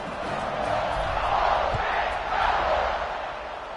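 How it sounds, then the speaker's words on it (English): A stadium crowd roars and buzzes in the video game College Football 26 after a score, a broad sustained rumble of many voices with gentle swells, loud and continuous. "this crowd is buzzing after that last score"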